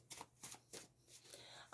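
Handmade tarot cards being shuffled in a few quick riffling bursts, close and fairly soft, with a brief rustle at the end.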